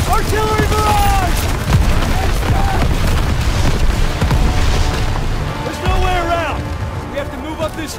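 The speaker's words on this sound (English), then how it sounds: "Get down! Artillery barrage!" An artillery barrage in the World War II shooter Call of Duty WWII pounds away with continuous heavy booms and blasts, and shouting soldiers and a score keep going over it the whole time.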